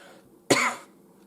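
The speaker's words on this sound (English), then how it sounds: "Cough, of course." A single sharp cough bursts out alone against a quiet room, loud and brief, with no talking around it.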